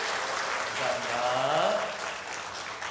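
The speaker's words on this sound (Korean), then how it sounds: "박수 주세요" A church congregation claps together after a cake cutting at a 32nd anniversary Sunday service, a short warm burst of applause over about three seconds, with a voice speaking briefly over it.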